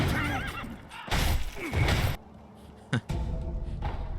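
A giant horse ridden by a boss in the Sekiro video game whinnies loudly and repeatedly, with a wavering neigh and snorting bursts, hoof clatter, and game combat noise around it.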